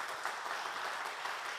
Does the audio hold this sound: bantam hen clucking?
no